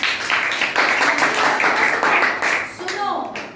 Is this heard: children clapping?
yes